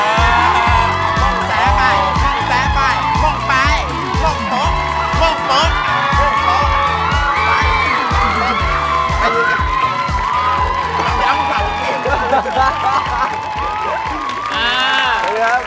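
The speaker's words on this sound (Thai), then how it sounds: "ขอเสียงปรบมือต้อนรับแขกรับเชิญของเรานะคะ" A Thai talk-show studio audience cheers and claps loudly to welcome guests, a continuous dense roar of crowd noise with whoops and shouts running through the whole stretch, voices mixed in.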